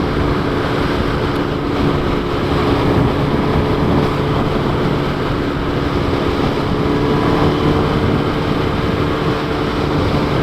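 A 2012 Kawasaki Ninja ZX10R inline-four with 57,000 km runs steadily while being ridden. A constant engine drone sits under heavy, unbroken wind rush, with no talking.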